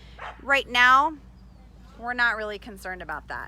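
A vocal puppy whines and yips in short bursts during place-command training, with someone talking nearby between and over the sounds.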